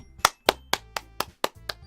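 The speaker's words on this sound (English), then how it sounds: "The four of us applaud." Applause in the Doki Doki Literature Club visual novel: a small group's crisp claps in an even rhythm, about eight distinct sharp hits, close and clear with silence between them.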